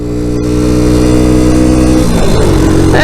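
A Suzuki FL125 motorcycle engine pulls hard in second gear, a loud, close, steady drone that rises in pitch, then briefly falls away near the end.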